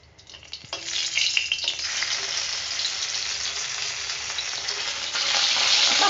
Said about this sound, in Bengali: লঙ্কা ভাজা করতেছে।